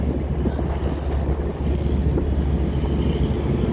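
A barge boat moves along a river, its low, steady engine rumble continuous and dominant throughout, mixed with wind buffeting the microphone.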